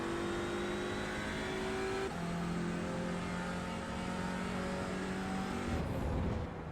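Audi RS 3 LMS TCR race car engines in iRacing at the Red Bull Ring, a loud continuous drone rising in pitch through gear changes, with a sharp shift midway and a brief burst of tire noise near the end.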